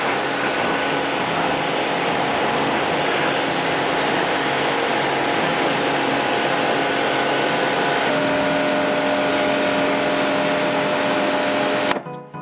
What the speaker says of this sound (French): j'ai le choix entre gratter à la brosse à fer et le Karcher. Donc, j'ai choisi le Karcher.